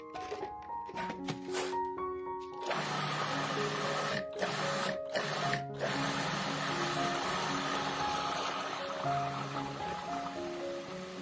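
A 14-cup food processor whirs steadily for several seconds after a few short bursts, its motor drone loud and even, with soft electronic tones sounding over it.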